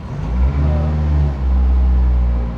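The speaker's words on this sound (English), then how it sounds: "It's running rough again to the point where it's going to stall." A Toyota Celica with lean and misfire faults, its engine running rough and close to stalling; a low, uneven rumble sags and wavers, dipping briefly before recovering, heard close with no talking.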